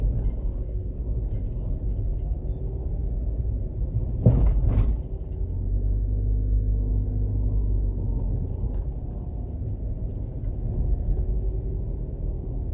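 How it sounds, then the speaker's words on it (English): Heavy traffic rumbles through a very busy intersection on a warehouse-lined road in Spanish Town, with engines and passing trailers droning continuously and a brief sharp clatter partway through. "very busy intersection"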